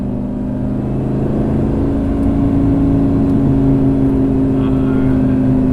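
Lamborghini Gallardo, an all-wheel-drive sports car, with its engine droning steadily while driving, a loud continuous low hum that builds slightly in the second half.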